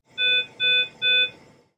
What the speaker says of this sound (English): For a low priority alarm, the tone is a series of 2 beeps repeated every 20 seconds.